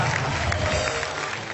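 Audience at a Hindi poetry recital breaks into clapping, a brief burst of applause with crowd murmur that tapers slightly toward the end.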